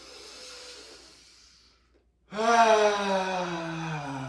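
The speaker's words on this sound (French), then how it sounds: "Vide par la bouche. Inspire par le nez." A slow inhale through the nose, then a pause, then a long, audible exhale through the mouth, close and alone during a guided breathing exercise.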